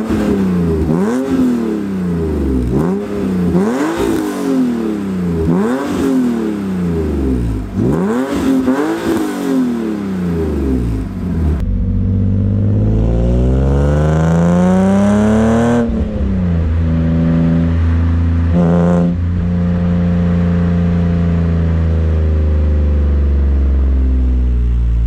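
BMW E36 M3 fitted with Raceland headers and a new exhaust, revving hard in repeated rising and falling bursts up close, then a long sweeping rev that climbs and settles into a steady idle, loud throughout with no talking.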